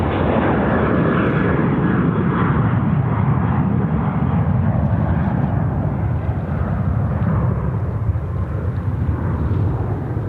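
At Sydney Airport, an airliner's jet engines give off a loud, steady, broadband roar that holds at constant strength throughout, heard from a distance without any talk.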